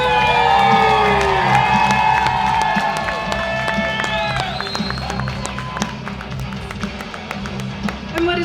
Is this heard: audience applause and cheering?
yes